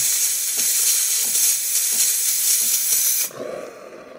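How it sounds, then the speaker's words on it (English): Strong, steady steam jetting from the steam wand of a DeLonghi Magnifica espresso machine, a loud continuous hiss held for about three seconds before cutting back to a softer, lower rush. "We get nice strong steam."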